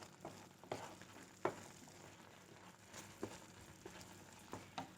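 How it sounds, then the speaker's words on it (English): Palak (spinach) fries quietly in a pan with a soft low sizzle, broken by a few sharp clicks and taps of stirring, with no one talking. "So let this fry a little more."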